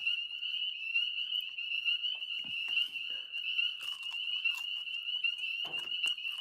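Dense chorus of frogs croaking in the woods, a steady loud trill with scattered sharper calls and brief rustles over it, no voices.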